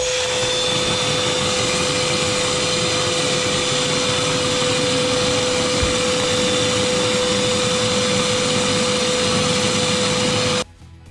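A small texture-spraying machine applies texture to a patched ceiling, giving a loud, steady vacuum-like roar with a constant whine that runs unbroken for about ten seconds, then cuts off abruptly.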